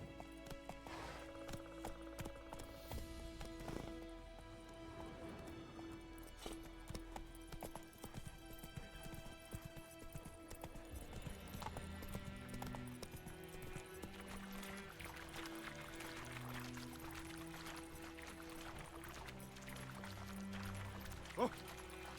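A horse gallops with rhythmic clip-clopping hooves in The Witcher 3 video game, the hoofbeats steady and fairly faint beneath orchestral game music, with no talking.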